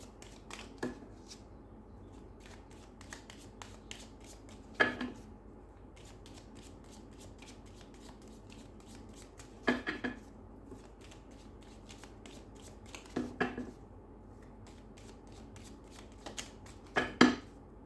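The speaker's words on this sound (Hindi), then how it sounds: "इसमें से एक कार्ड निकालती हूँ कि आपके लिए क्या जानना जरूरी है इस वक्त" Tarot cards shuffled by hand, soft papery riffles and flicks recurring every few seconds as distinct bursts over a quiet background, with no talking.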